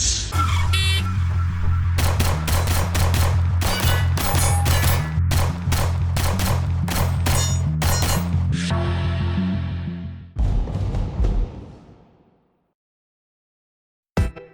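An IWI Masada pistol fired outdoors in a rapid string of loud, sharp cracks, roughly a dozen evenly spaced shots with ringing echo, then a pause, a short final volley fading to silence and one last report.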